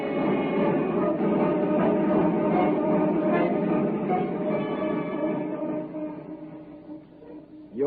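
Steady rumbling train sound effect from an old radio drama adaptation, a continuous clattering roll of wheels and carriage noise that stays loud throughout before thinning out near the end, with no talk.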